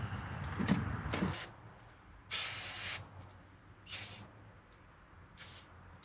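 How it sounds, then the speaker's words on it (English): Freeze Off penetrating lubricant sprayed onto a 1949 Studebaker carburetor, several short hissing bursts of aerosol spray, a couple about a second long, separated by quiet pauses, after some brief handling noises. "Gonna hit it with the freeze off"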